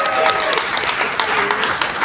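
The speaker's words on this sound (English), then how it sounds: "can I get a round of applause, please?" A company summit audience applauds a co-founder's presentation for an inCruises event, a dense wash of clapping that runs steadily through the moment alongside a faint voice.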